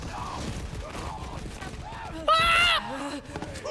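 Lead Sprinkler gun in Borderlands 3 firing one short, loud burst of shots, with game sounds and voice noises around it.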